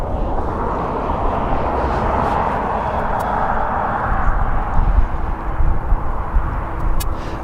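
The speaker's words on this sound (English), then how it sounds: "Going over the top is the Dreamliner" A Boeing 787 Dreamliner passes overhead, a loud, continuous jet roar with a broad rushing tone that swells and grows rougher toward the end, no voices over it.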